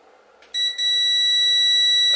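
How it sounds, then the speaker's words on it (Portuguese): A multimeter set to continuity mode beeps as its probe touches a ground point on a computer motherboard: a faint rustle, then a sharp, steady high-pitched tone that sounds after a brief flicker and holds to the end. "Em qualquer lugar da placa que eu colocar, que tiver um terra, vai bipar"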